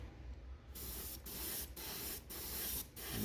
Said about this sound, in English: spraying it through our trusty UMP Apex airbrush at about 25 psi